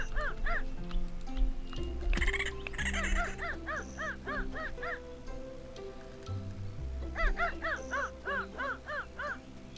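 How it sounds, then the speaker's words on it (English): A dog barks in a ranch and farm simulator video game: repeated quick bursts of barking in two clusters, fairly close, over low layered game music and ambience. "I hear the dog barking."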